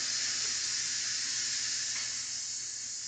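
Steam hisses steadily and loudly at close range from a potato steamer being vented, a continuous bright rush with no break.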